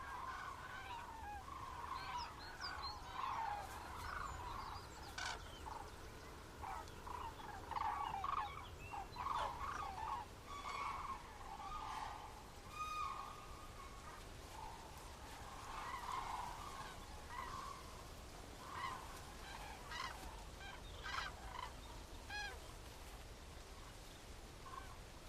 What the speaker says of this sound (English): Squadrons of cranes ply the skies in vigorous and sustained flight, constantly trumpeting.